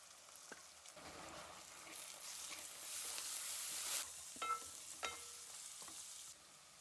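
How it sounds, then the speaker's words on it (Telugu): Onions frying in a pan with salt, ginger, dried fenugreek leaves and turmeric for mutton keema curry, a continuous sizzle that swells louder midway, with scattered clinks and scrapes of stirring. "చూసారా, ఉల్లిపాయ మొత్తం మగ్గుతుంది."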